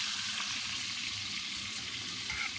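Food for an Iranian-style meat recipe frying in a pan gives a constant, close, hissing sizzle with no pauses.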